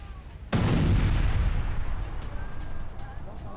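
A heavy blast from an Israeli strike on Lebanon booms suddenly, then rumbles and roars on for several seconds in a long, fading reverberation, distant and low, with faint crackle underneath.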